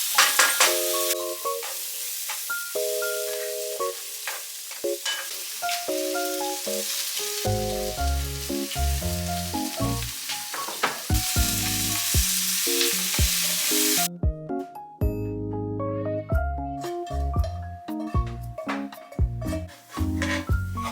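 Garlic and slightly old, yellowing kale sizzle in a pan while being stirred, a soft frying hiss and occasional scrapes sitting beneath prominent melodic background music.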